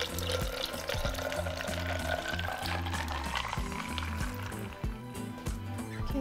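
Water pours steadily into a pitcher for lemonade, a continuous splashing gurgle with a rising pitch as it fills, over a low rhythmic musical backing.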